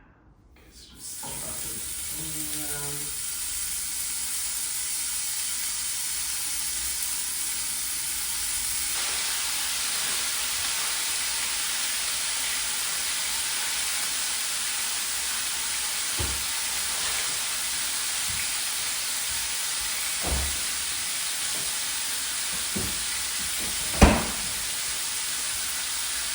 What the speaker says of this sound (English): I didn't think about the sizzling bacon.